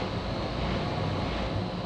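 Land Rover Defender 2.4 with an Alive Stage 3 tune and breathing mods accelerating hard, a steady dense engine roar with wind noise, heard from inside the vehicle.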